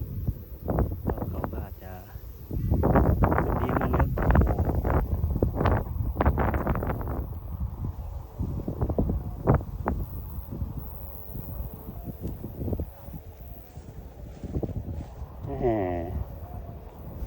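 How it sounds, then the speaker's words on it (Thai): Strong gusty wind buffets the microphone while a white Isan-style kite is flown outdoors, roaring in uneven rushes and bursts throughout, with someone talking over it. "เจอลมแรงครับเจอลมแรงลมล่างครับลมกระชากครับ"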